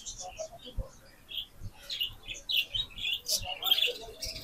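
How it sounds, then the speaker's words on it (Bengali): Common mynas calling outdoors in Kuwait, a scatter of bright chirps and squawks from several birds, moderately near, with irregular bursts and some low background thumps. "শালিক পাখি পর্যন্ত এসে গেছে কুয়েতে"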